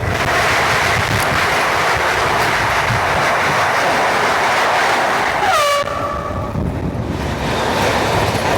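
Vidarbha Express passenger train on the Gondia to Mumbai run, a continuous loud rushing roar of wheels and wind, with a brief falling whistle-like tone near the end.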